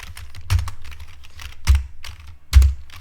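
Three distinct keystrokes sound on a computer keyboard, spaced about a second apart, close and fairly loud over a faint room hum.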